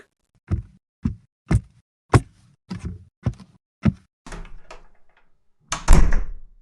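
Wooden door struck by a series of firm, evenly spaced knocks, close and loud, followed by a rattling handle and the door swinging open with a louder thud near the end, no speech.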